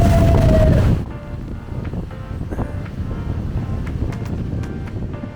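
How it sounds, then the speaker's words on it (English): Strong wind gusting through a narrow slot canyon on the Subway top-down route in Zion, a loud roaring rush at first that drops to a steady, lower buffeting hiss with scattered knocks. "It's so windy."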